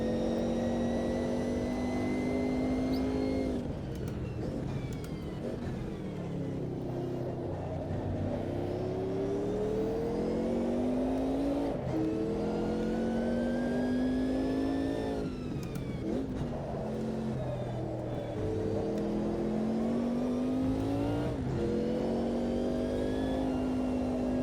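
A Group C prototype race car engine in Automobilista 2 at Termas de Rio Hondo, run leaned down to save fuel, drones steadily and close, its pitch repeatedly climbing through the gears and dropping sharply at each shift and braking zone.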